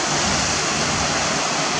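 Water waves wash against the Anchorsholme slipway with a loud, dense, continuous broadband roar close to the shore, with nothing else heard.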